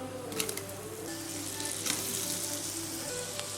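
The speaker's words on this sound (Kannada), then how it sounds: "ಸೊ ಪನ್ನೀರ್ ಹಾಕಿ ಇದನ್ನು ಸ್ವಲ್ಪ ಫ್ರೈ ಮಾಡಿ" Paneer sizzles steadily in hot spiced butter in a pan, a soft, close crackle with small pops scattered through it.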